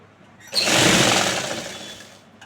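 A sewing machine runs a double stitch on a suit seam in one continuous whirring burst that starts abruptly and tapers off near the end, close and alone.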